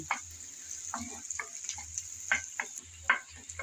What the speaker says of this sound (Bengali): আমি হালকা করে নেড়ে চেড়ে পেঁয়াজগুলো ভেজে নিচ্ছি।